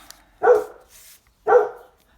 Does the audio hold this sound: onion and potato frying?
no